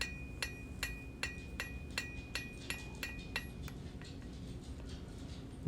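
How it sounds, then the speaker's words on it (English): A cross peen hammer rings steadily on hot iron at the anvil while a split cross is forged, about a dozen sharp metallic strikes in an even rhythm, close and clear, fading slightly toward the end. "Just spreading it out with a cross peen"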